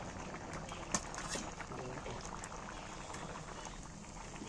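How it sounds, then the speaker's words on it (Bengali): Hot water poured into a pot of boiled masoor lentils being cooked with pointed gourd, a steady close liquid wash with a brief splash near the start and no talk. "আর এখানে ওই গরম জলটা এর মধ্যে দিয়ে দিচ্ছি যাতে ডালটা কিন্তু একদম খুব সুন্দর"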